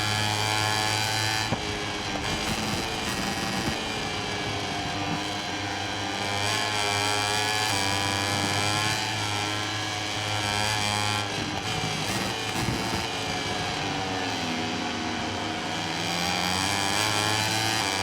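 Husqvarna racing motorcycle engine in MotoGP 21, a loud, steady high-pitched buzzing whine held near throughout, with pitch wavering slightly as the bike accelerates and no speech.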